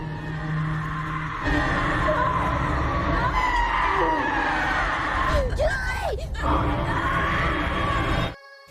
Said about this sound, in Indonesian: Julie pun mendengar suara teriakan